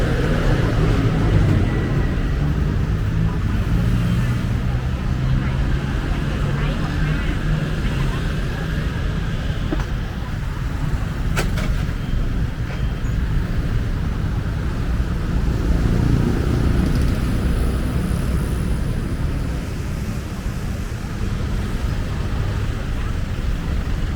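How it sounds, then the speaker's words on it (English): Steady, loud street traffic on Sukhumvit Road near On Nut in Bangkok, by the canal at Soi Sukhumvit 77, a continuous roar of engines close by with no clear gaps. "There is a lot of traffic."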